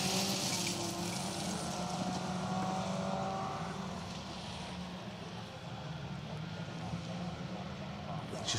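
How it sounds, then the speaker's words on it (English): MG ZR and BMW Mini rally cars race at Donington, heard as a faint, distant engine whine and roar that swells and fades under steady crowd and outdoor ambience, with a commentator talking throughout. "Just see that power that MG ZR's got. Look at the speed he went past that BMW."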